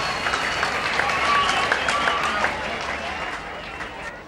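Crowd at an Australian rules football match in the Northern Territory applauding a goal, a broad wash of clapping and cheering that holds steady then slowly fades, with a commentator's voice over it.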